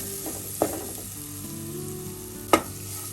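Small chopped ripe plantain fries in ghee with roasted coconut for a Kerala pradhaman, a steady close sizzle broken by two sharp clinks of a stirring spoon against the pan.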